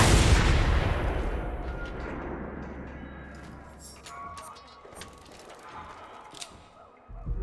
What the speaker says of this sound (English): There's a lot of explosion in here.